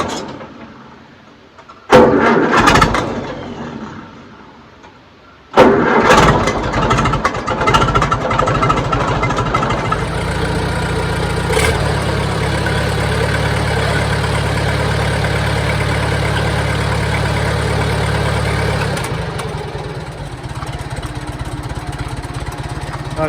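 A Farmall Super C tractor engine cranks, catches and settles into a steady, loud idle that runs on for many seconds, with a few sharp clanks at the start.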